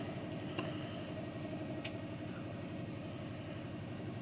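A Land Rover LR3 engine idles roughly after starting, a low, steady rumble with a slightly uneven, pulsing rhythm, heard quietly from close by without voices.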